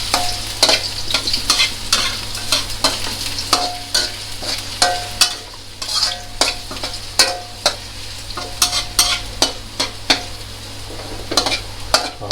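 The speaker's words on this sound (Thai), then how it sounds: "ทำไมต้องเอาขิงผัดก่อน" Ginger is stir-fried in a pan for a snakehead fish and Chinese celery dish. A steady oily sizzle runs under repeated close metallic scrapes and taps of the spatula, with no talking.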